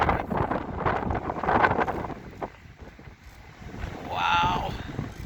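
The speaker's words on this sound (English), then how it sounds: "it is getting windy up here" Gusty wind buffets the microphone on a chairlift climbing to a mountain summit in Montana, a low, rough rumble that swells and fades in uneven gusts.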